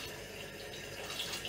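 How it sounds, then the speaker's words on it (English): Water pours into a cooking pot holding chorizo for a Brazilian black bean stew, a soft, steady splashing rush that lasts a moment and stays faint throughout. "I'll have to add a little bit more water to that."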